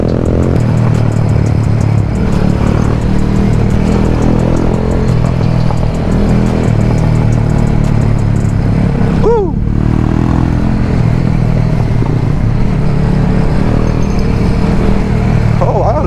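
Motorcycles ride along near a beach in St. Mary, Jamaica, with loud, continuous engine drone and wind rumble, a brief rev change midway, and voices faintly under the noise.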